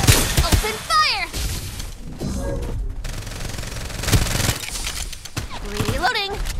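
Rapid automatic gunfire from the Farlight 84 video game rattles in loud bursts throughout, mixed with game effects and a voice shouting over the shooting.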